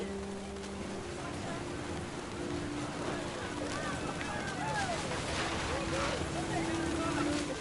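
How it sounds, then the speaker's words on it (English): Steady, dense hiss of heavy rain pouring down in the video game What Remains of Edith Finch. It is broad and continuous, with faint tonal chirps layered over it and a voice speaking at times. "The rain came down in buckets then"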